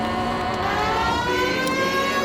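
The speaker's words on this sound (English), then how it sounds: "I set the alarm off, the police siren" A police siren alarm in the video game LA Noire, a steady wailing tone with layered harmonics holding loud and continuous, with no talk.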